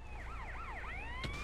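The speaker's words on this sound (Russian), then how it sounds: "Пожарные приехали." A fire engine siren from GTA: San Andreas wails in rising and falling sweeps, then shifts to a long upward glide, fairly distant and steady with a brief sharp burst near the end.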